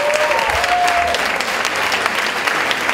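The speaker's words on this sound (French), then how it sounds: "On peut les applaudir." An audience at a political launch evening in France applauds, giving continuous, dense clapping with a brief faint whistle near the start.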